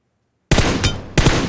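Gunfire in PUBG Mobile: after a brief silence, a loud burst of rapid shots bursts in close, with a second burst following a moment later.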